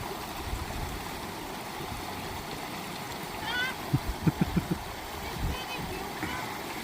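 A stream in the Lake District being waded across, steady rushing water throughout with a short run of splashing steps midway, voices talking close by over it.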